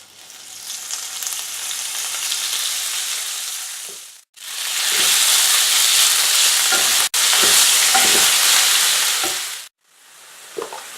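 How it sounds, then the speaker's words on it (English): Meat fries in very hot oil in a pan, a loud, dense, continuous sizzle that drops out briefly twice, then returns at full strength, close by with no voices. "So I like to fry the meat first."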